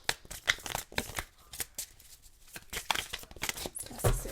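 Tarot cards being shuffled during a full moon reading, quick papery riffles and slaps in irregular bursts, close and fairly quiet with no talking.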